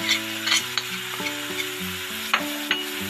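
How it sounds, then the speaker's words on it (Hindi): Red chili, turmeric, salt and tomatoes sizzle in a pan for aloo gobi, with a spoon scraping and stirring through the masala in an irregular rhythm close by. "और अब इस मसाले को मैं अच्छी तरह से भून लेती हूँ"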